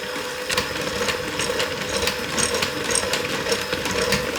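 Ninja Creami ice cream maker spinning and mixing a tub, a steady mechanical whir with a gritty grinding texture and a faint pulsing rhythm, close and loud, no voices.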